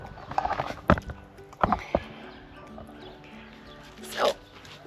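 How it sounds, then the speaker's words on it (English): Katika, a rescue dog from Bucharest, barks a few times in a garden beside a cabin, with scattered yips and whines between the barks and faint background sounds. "This is my dog, Katika."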